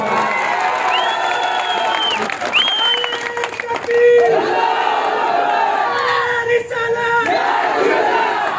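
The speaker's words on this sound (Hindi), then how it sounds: "जोर से ताली बजाओ" A political rally crowd cheers, shouts and claps for a newly declared candidate, loud and close, with overlapping voices and whoops swelling and dipping throughout.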